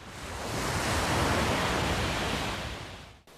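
Ocean waves breaking in a long roaring wash of surf that swells, peaks and fades, loud and close with no voices.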